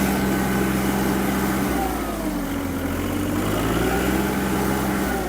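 An Iseki TU-217 Japanese mini tractor runs close by on slippery ground, its engine holding a steady, loud drone with small shifts in pitch throughout.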